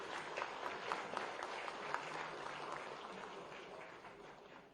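Applause from an audience welcomes a guest at a book launch event, a burst of many hands clapping that holds steady and then gradually thins out, heard at a distance and fairly faint.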